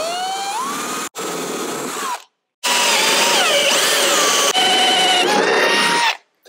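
A power drill marks hole positions for a raised air intake fitting on a Land Rover Discovery 3 or 4, whirring loud and close in several bursts with short pauses between them.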